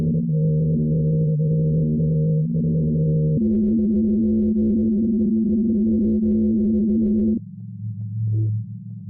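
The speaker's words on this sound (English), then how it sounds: "The winds blowing across the snow dunes is what causes the humming" Seismic humming of Antarctica's Ross Ice Shelf, caused by wind over snow dunes and made audible, as a loud low droning tone that shifts pitch in steps, then drops to a softer hum.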